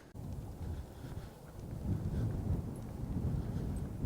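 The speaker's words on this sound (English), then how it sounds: "but it is super windy here" Wind buffets an outdoor DJI lavalier mic fitted with a fuzzy windscreen, a steady low rumble that grows stronger and gustier partway through, with no voice.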